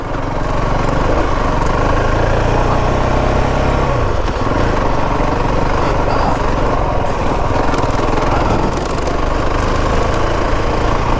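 A CRF450RL motorcycle engine idles in cold weather outdoors, a loud, steady, close-up rumble with an even putter that runs throughout.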